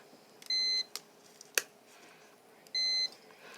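A continuity tester checking a wall switch gives two steady electronic beeps, each about a third of a second long and well separated, with a sharp click between them and a quiet background.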